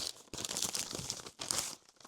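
Paper packaging on a parcel of books from a publisher crinkles and tears in close, continuous bursts, with a brief pause near the start and another just before the end.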